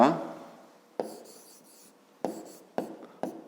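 A pen writes on paper during a fifth-grade math exercise, quick scratchy strokes in short separate bursts, close and quiet.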